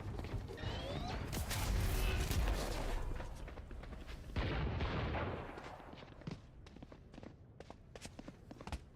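The Stinger submachine gun fires in the video game VALORANT in rapid bursts amid footsteps and clatter, loud at first, then thinning into scattered sharp shots and effects.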